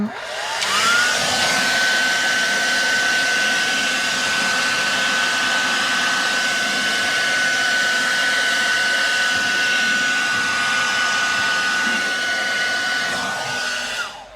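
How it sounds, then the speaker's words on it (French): A hair dryer blows continuously at close range while setting glued trim on a Tesla Model 3, a loud steady whoosh with a high motor whine that switches on and off at the ends. "Peut-être un coup de sèche-cheveux, que ça colle."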